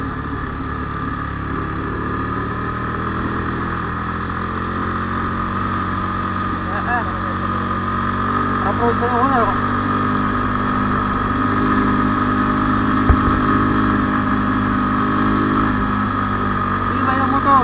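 A Gamma 200 motorcycle engine labours up a steep rocky uphill road, a steady close drone that grows slightly louder partway through, with someone talking over it.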